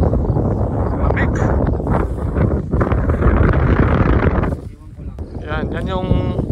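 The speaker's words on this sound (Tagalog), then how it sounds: "Yung malakas lang hangin pero manageable naman." Strong wind buffets the microphone at a hilltop campsite in Sibalom, Antique, a loud continuous roar that eases briefly near the end while a voice speaks faintly underneath.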